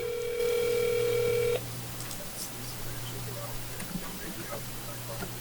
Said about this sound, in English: I rang his phone so he knows he has an open mic now